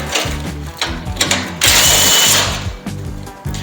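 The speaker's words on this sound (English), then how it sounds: "undo all the lower bolts with a 14mm spanner and a 14mm socket" A power tool, likely a drill fitted with a 14mm socket, undoes the lower frame bolts on a Thumpstar TSB110 dirt bike, its loud whirring motor revving in short bursts with one longer sustained run, close up.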